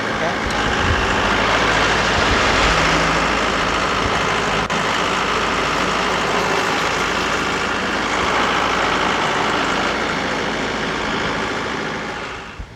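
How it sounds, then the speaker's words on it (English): Mahindra 4540 tractor engine working hard while pulling down a tree, a loud, steady, heavy low rumble that holds for the whole stretch before easing off at the very end. "Pull the tree down with the tractor,"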